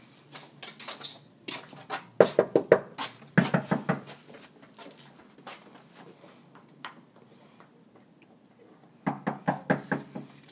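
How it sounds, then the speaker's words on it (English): Two quick bursts of sharp knocks on a wooden door, each a rapid run of about five raps, then a pause and a final cluster of knocks. "let's knock on the door."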